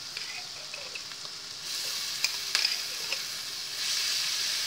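Tomato sauce sizzles on fried garlic in a pan, a steady bright hiss that swells louder partway through, with a few soft clicks of stirring and no voices.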